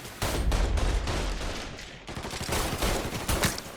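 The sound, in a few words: gunfire in video game Mafia III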